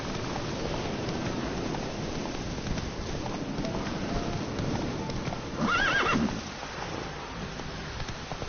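Roach, the horse in The Witcher 3, gallops with rapid hoofbeats over a windy outdoor game soundscape, and a short whinny rises above the running near the middle.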